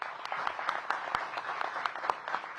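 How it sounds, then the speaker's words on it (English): Audience applause at a mayoral policy announcement in Washington, DC, a steady wash of many hands clapping throughout, moderately distant and even, with no talking over it. "Give them a big round of applause."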